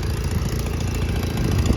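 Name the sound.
Honda 5518 garden tractor engine running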